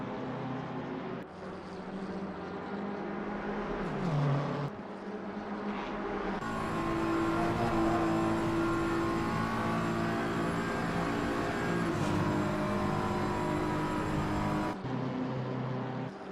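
Two BMW race cars battling nose to tail at Spa-Francorchamps in Assetto Corsa, with a steady, loud engine roar that rises and shifts through gears as the cars run near one another without pause.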